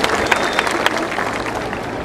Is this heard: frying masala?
no